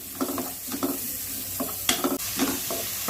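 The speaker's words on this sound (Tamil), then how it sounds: "வதக்கிக்கலாம்." Ingredients sautéing in a pan for a side dish to go with chapati, with a soft continuous sizzle under repeated bursts of spoon stirring and scraping, close by and without speech.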